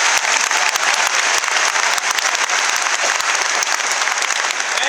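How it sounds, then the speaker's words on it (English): A graduation audience breaks into a round of applause, dense steady clapping that fills the hall at full volume for the whole stretch with no voices on top. "So let's give ourselves a round of applause."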